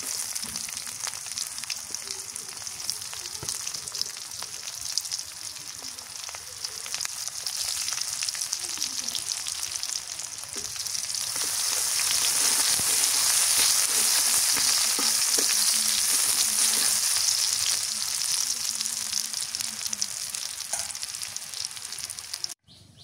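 Onion frying in hot oil after cumin, for a curry of a large catla fish with elephant foot yam: a steady close sizzle that swells louder midway, with occasional stirring scrapes and clicks and no voices.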